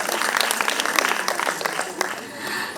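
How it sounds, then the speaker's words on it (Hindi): Audience at a school annual day event applauds to welcome a radio presenter, with brisk, dense clapping that briefly swells and then tapers, and a voice faintly mixed in. "जोरदार तालियों से स्वागत कीजिए"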